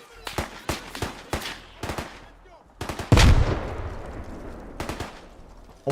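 Arma 3 combat: sharp bursts of gunfire crack in quick succession, then a loud frag grenade blast booms with a rumbling tail, followed by more scattered shots.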